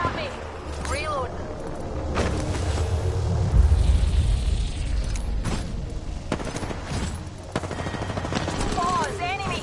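Loud, sustained automatic weapon fire and explosions in the battle royale shooter Apex Legends on PS4, rattling bursts under a player's radio chatter.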